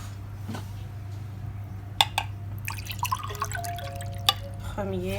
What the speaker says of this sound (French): Maintenant, je vais mettre les 4 verres d'eau.